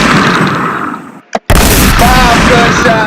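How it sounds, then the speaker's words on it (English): Burst-like gunshot sound effects punch through loud, dense music, with a sharp crack and brief drop to near silence partway through before the busy mix resumes at full volume. "She gets 5 gunshots."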